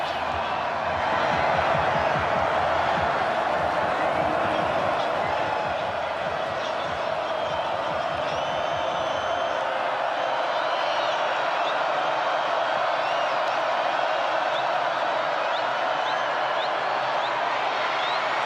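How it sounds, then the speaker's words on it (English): A stadium crowd at a college football game, Georgia Tech at NC State, roars in a sustained, dense wash of cheering that holds steady throughout, with a commentator talking over it. "And this crowd is into it."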